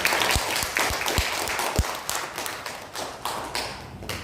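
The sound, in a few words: congregation clapping in thanksgiving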